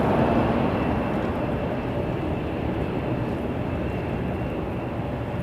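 A Jazz Embraer 175 regional jet at Toronto Pearson makes a steady engine rumble, moderately loud and unchanging, with no clear voices over it.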